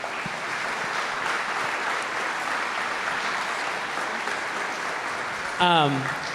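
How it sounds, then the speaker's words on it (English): A conference audience applauds steadily throughout at a 2022 energy and sustainability conference, a dense even patter that holds at one level, with a short voice-like sound breaking in near the end. "Round of applause, everybody."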